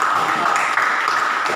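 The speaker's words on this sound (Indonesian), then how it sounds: "Bagus sekali, beri aplaus sekali ya." Students in a classroom give a short burst of dense, steady applause that fills the whole moment, close and fairly loud.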